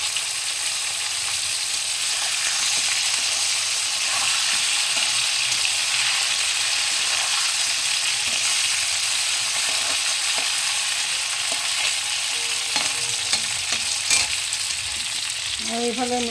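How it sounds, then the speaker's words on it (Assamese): Meat sizzles steadily in a hot pan, following fried potatoes and a few dried red chillies, a continuous close frying hiss with occasional stirring scrapes toward the end. "এয়া মাংসখিনি ফ্ৰাই কৰি আছোঁ।"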